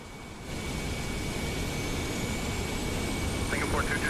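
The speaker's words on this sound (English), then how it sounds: "Starting engine 1." An Airbus A350 jet engine spooling up in a flight simulator makes a steady, loud broadband roar that builds slightly and holds without letting up.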